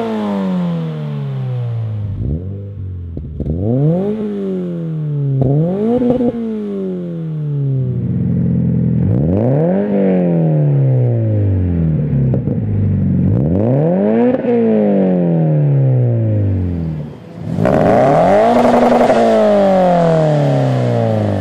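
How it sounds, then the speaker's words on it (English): Aftermarket catback exhausts on a Toyota 86, Subaru BRZ or Scion FR-S, revved repeatedly in sharp rising and falling sweeps, loud and close, with a harsher final rev near the end and no talking. "So now let's have a listen to a couple popular catback systems."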